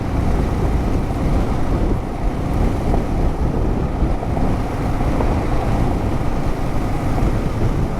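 A KLR650 motorcycle riding over gravel and dirt, a loud, steady engine drone mixed with heavy wind buffeting and crunchy rumble from the loose surface, continuous throughout with no talking.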